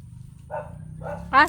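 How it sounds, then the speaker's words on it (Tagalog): A dog barks three times in short bursts, the last the loudest, passing near a path outdoors with low background noise. "Aso dumadaan dyan."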